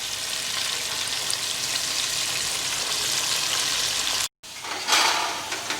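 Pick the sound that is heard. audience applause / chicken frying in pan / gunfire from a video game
chicken frying in pan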